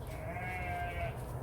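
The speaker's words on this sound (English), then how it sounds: "oh, there's a sheep who's got stuck in," A sheep bleats once in a pen, a single sustained wavering call over a steady low outdoor rumble.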